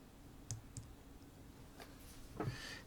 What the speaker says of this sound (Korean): Alt 키 눌러서 또 복사.